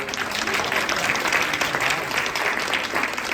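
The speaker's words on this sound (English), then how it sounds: "Take a round of applause for." An audience at a science improv session gives a round of applause, dense continuous clapping throughout at a steady, fairly loud level.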